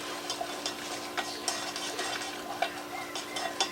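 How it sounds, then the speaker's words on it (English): Melted butter and minced garlic stirred in a saucepan, giving soft scraping and light clinks at an uneven rhythm over a faint steady sizzle, close and fairly quiet. "Let me mix this just a little bit."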